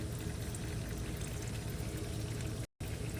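Engine oil drains from a loosened drain plug, a steady broadband pouring rush running continuously with a brief gap near the end.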